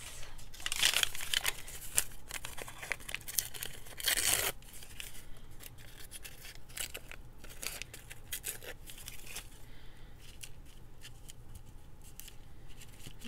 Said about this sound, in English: I'll just trim off whatever is unnecessary.